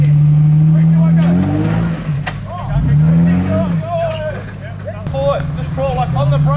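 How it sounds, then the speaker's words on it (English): An off-road vehicle engine, held at about 1500 RPM, hums steadily and rises and falls in pitch as it labours. Close and loud, with voices talking over it. "Give it about 1500 RPM, and then up and right."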